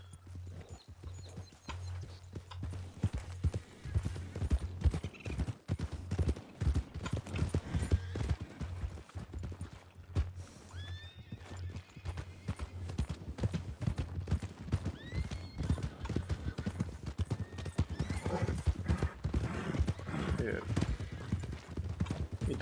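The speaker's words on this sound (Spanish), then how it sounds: "Todos estos caballos." Horses in the video game RedM, a steady clopping of hooves trotting along a long road with occasional whinnies, while people talk over it throughout.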